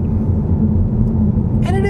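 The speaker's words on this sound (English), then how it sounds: "we're on this little bit of a rougher road that generates some road noise" Inside a 2023 Kia Niro Hybrid on a rough road, a steady low rumble of road noise fills the cabin, and a voice briefly cuts in at the very end.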